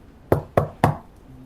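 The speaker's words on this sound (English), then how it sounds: "there came a knock on the door" Three sharp, evenly spaced knocks on a wooden cabin door, loud and close, performed as a radio play sound effect for a stormy night scene.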